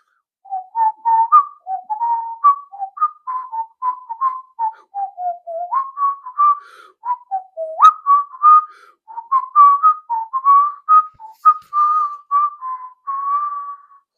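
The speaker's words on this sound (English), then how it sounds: "I'm going to whistle for you." Someone whistles a lively melody alone, a long run of short, clear notes with brief pauses, close and steady throughout.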